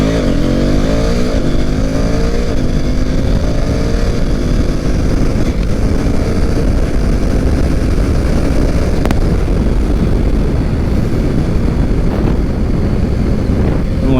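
A motorcycle rides along the road, its engine giving a loud continuous drone with shifting pitch as it accelerates, overlaid by steady wind rush at the microphone.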